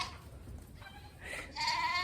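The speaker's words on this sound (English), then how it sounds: "just find someone with baby goats" Young goats on a goat farm bleat in a short run of high, wavering cries, the loudest call near the end, close by over a low background murmur.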